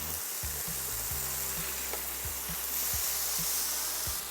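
Burger patties sizzle loudly in a hot pan as they are flipped, a dense continuous hiss with scattered soft taps and clicks from the turning, with no voices.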